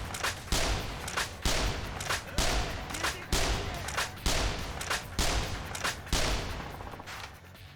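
Sniper rifle shots ring out in a Yakuza video game, about eight sharp loud cracks fired at a fairly regular rhythm, each with a short decaying tail.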